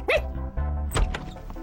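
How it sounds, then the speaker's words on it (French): Cartoon dog barking in an animated series, a couple of short yappy barks near and loud, with a thump and some background sound effects between them. "C'est Kiwi, le chien de Odd"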